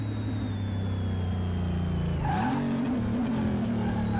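A modded school bus in Car Mechanic Simulator 2018 revs hard in first gear, its steady engine drone rising in pitch midway and holding loud and close.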